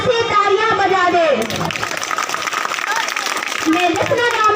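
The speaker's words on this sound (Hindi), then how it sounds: "एक बार इस तिरंगे की सम्मान के लिए जोरदार से तालियां बजा दे" A crowd claps loudly in sustained applause to honour the tricolour flag at a Republic Day speech event, with a speaker's voice before and after the burst.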